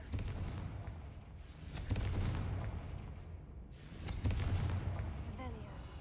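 A Confringo fire spell explodes in Hogwarts Legacy, a deep booming blast that rumbles for a moment and then repeats as a second loud burst, with low crackling combat noise and a faint voice between them.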